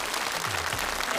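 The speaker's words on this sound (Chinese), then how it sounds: "现在让我们掌声有请三位上场" An audience applauds to welcome three guests onto the stage at a televised gala, a dense steady wash of clapping throughout.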